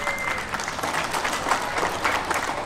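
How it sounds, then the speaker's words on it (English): Audience round of applause for the organisers at a NAIDOC community event, a dense, steady wash of clapping from a crowd with faint background voices mixed in. "Give the organisers a big round of applause."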